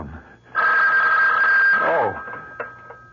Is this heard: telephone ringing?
yes